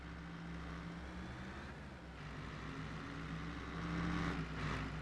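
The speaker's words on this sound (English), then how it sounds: "Here comes the truck." A super loud truck in a forest logging simulation game approaches as a steady low engine drone that builds toward the end, with no voices.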